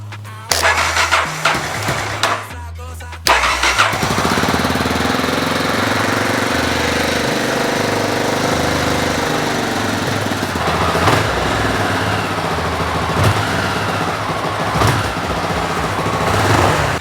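A Honda RFVC 600 XL/XR motorcycle single engine, freshly rebuilt top end, cranks a few times, catches, and settles into a loud, steady idle with a rough, throbbing rumble, no talking.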